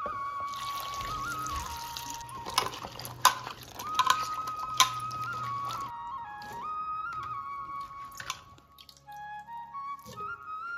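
Water pours and trickles over chopped knol-khol, beans and carrots being rinsed for bisi bele bath, a steady splashing flow with a few sharp clatters, ending in quieter drips.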